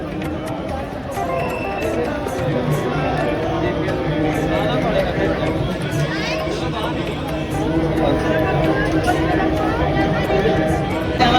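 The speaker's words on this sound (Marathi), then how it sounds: "गर्दी हो, गर्दी किती इथं गर्दी" Dense crowd of pilgrims at Mahakaleshwar temple in Ujjain, a continuous loud babble of many voices with steady hubbub throughout, close and enveloping.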